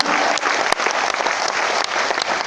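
An audience at an RCM business seminar in Bhilwara, Rajasthan bursts into loud applause, a dense close wash of many hands with a few sharp individual claps standing out, brief and steady throughout.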